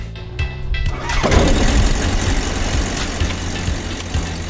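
A gyroplane's propeller engine cranks and catches, then settles into a steady, loud, broadband roar that runs continuously to the end, close by with no talk over it.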